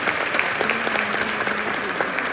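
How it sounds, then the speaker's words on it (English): Applause from a film festival audience for a filmmaker at a finale event: dense, even clapping close by, with a faint voice or tone running underneath it. "everybody, yes, clap"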